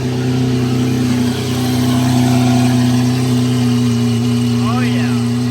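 Lamborghini Aventador fitted with a full Fi exhaust, close by and loud, holding a steady deep idle drone with a brief rev near the end, running continuously throughout.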